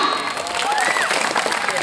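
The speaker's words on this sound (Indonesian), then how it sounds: "Tepuk tangan." A short burst of dense applause from a crowd, steady and fairly loud throughout, with many hands clapping at once.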